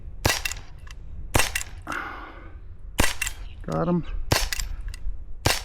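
A Glock 17 replica BB gun fires at targets 25 yards out, sharp loud cracking shots coming one at a time at irregular intervals, with someone talking between shots.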